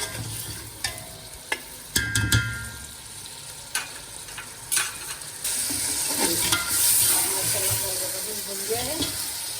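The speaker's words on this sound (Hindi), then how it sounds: "इसकी अच्छी सी भुनाई करूंगी मैं।" Yogurt and beef frying and being stirred in a pot for beef pulao: a few sharp spoon clacks against the metal, then a steady close sizzle with ongoing stirring, no talking.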